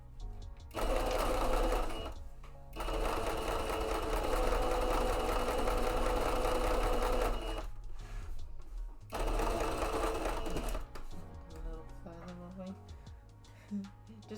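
A sewing machine stitches mock-up fabric for a pair of shorts and a hat in steady, loud mechanical bursts, with short pauses between runs and a quieter stretch toward the end.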